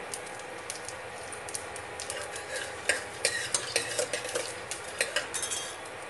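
Asafoetida dropping into hot oil during a tempering for Gujarati sweet-and-sour dal, with a steady sizzle and a few spoon clinks against the pan building toward the end; no voices.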